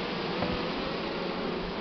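Honey bees at an open hive being expanded with fresh wax foundation give a steady, dense, close buzzing that continues without a break.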